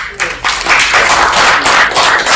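Applause from a Brighton audience, loud and steady, filling the room throughout with no one speaking over it.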